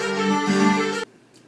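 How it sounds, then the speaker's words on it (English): A digital piano patch of harpsichord layered over strings plays a sustained, bright chord for about a second, loud and alone, then cuts off abruptly into near silence. "Basically, you're going to layer harpsichord on top of strings."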